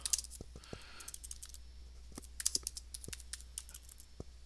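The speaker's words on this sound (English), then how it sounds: "Sorry for my typing, but my fingers at this point are so tired of typing on a laptop" Fast, uneven tapping on a laptop keyboard, a run of sharp close clicks with brief pauses, over a low steady hum.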